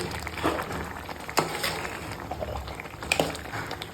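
Taro greens sizzle and bubble quietly in a pan, with soft crackles and a few sharper pops or scrapes.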